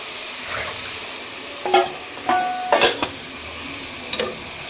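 Fish curry spices sautéing in a pan with turmeric and cumin, a soft steady sizzle underneath a few sharp scraping stirs of a spoon against the pan.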